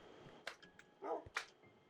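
Video game dogs in a Minecraft-style world give a few short yips and barks close by, quiet and scattered over about two seconds.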